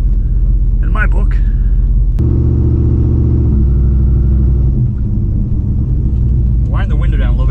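Turbocharged Pontiac G8 GT V8 heard from inside the car, a deep steady engine rumble that swells and holds as it builds boost, with short bursts of talk at the start and end.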